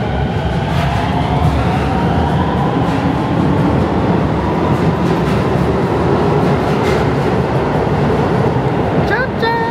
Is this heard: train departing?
yes